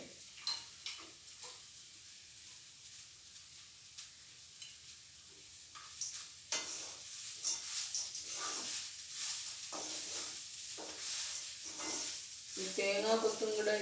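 Roasted coconut is stirred into a soybean curry in a pan, with soft scraping strokes and a faint sizzle that grows louder and denser toward the end.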